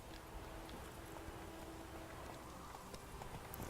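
Horse hooves clip-clop steadily through a video game scene, a faint, even patter under a low constant background hum.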